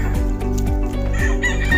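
Roosters at a gamefowl chicken farm crow loudly and close by, several overlapping crows repeating in a steady rhythm, with some clucking mixed in and no voices.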